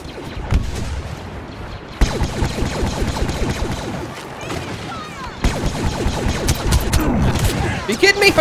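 Blaster gunfire from a Star Wars Battlefront beta battle, rapid bursts of shots and crashing impacts running almost continuously, dense and loud, with speech mixed in over the combat.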